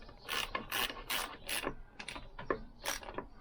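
A ratchet clicks in quick bursts while tightening a bolt on a Lambretta scooter engine. The rapid, close mechanical ratcheting is clearly separated into several strokes with short pauses between them.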